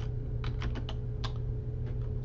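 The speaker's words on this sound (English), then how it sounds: "I'm going to go ahead and type in my running header information here" Keyboard typing in a quiet room: several short bursts of key clicks, fairly soft and close, with a low steady hum beneath and no talking.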